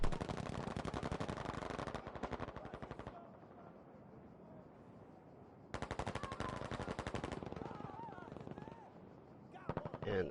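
Battlefield V gunfire during a competitive match: rapid automatic bursts, loud and close, in two long stretches separated by quieter ambience, with a short burst at the end and a voice talking over it.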